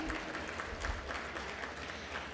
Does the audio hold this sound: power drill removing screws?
no